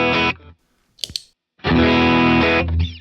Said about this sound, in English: That gives it that boost that I just love.